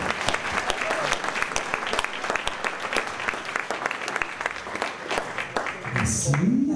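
Warm audience applause welcoming a monsignor at a Montreal diocese gathering, a steady dense clapping with a few sharper claps standing out, fading into a voice at the end.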